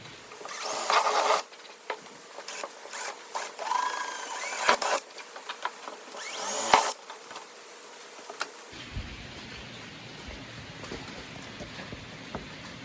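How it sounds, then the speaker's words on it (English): A small power drill boring a hole at the end of a crack in golf cart plastic, giving a high whining buzz in several short bursts that stops partway through, leaving quiet background noise. "As you can see, we got our hole drilled"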